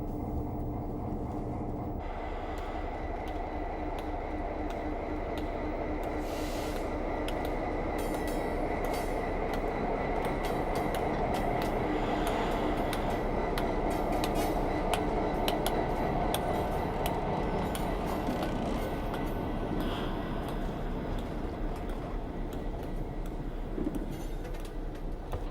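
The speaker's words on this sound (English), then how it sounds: "the train will move forward very gently under its own momentum" Heavy freight train rolling forward slowly under its own momentum after the brakes are released, a continuous loud rumble of wagons with squealing wheels and rail clatter, close by, with no talking.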